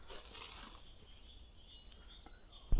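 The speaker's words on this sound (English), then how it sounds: "this little guy started his song like a short-toed tree creeper, but ended it with the classic Eurasian tree creeper finish" A hybrid treecreeper sings a short high song, opening like a short-toed treecreeper and ending with the Eurasian treecreeper flourish, a thin rapid trill descending in pitch, faint against quiet woodland background.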